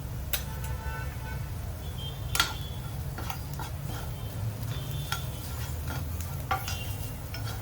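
Spices such as coriander powder, garam masala, chaat masala and Kashmiri red chilli are stirred in a frying pan for a homemade veg frankie filling, with soft scraping strokes and light clinks over a steady low sizzle.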